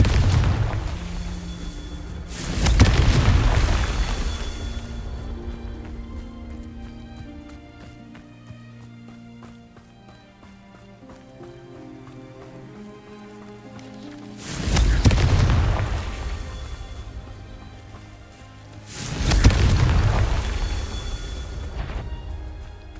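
Confringo blasting-spell explosions in Hogwarts Legacy, three heavy booming blasts spaced apart, each with a long rumbling decay over quiet ambient game music.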